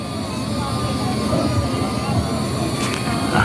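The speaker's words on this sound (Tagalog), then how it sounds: "Ito na naman, nagpalipad na naman ng drone. Ayan, ayan ang drone niya." Drone flying overhead at a crowded outdoor spot, a steady whining drone hum with faint tonal lines over constant broadband noise, fairly loud and continuous throughout.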